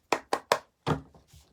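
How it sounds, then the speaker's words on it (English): Three quick hard knocks on an oracle card deck in an even rhythm, close and crisp, followed by softer handling taps of the cards. "I'm going to knock 3 times."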